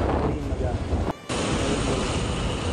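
Strong gusting wind roars and buffets the microphone of a phone carried on a moving motorbike during a rainy storm, a steady dense rumble broken by one brief dropout.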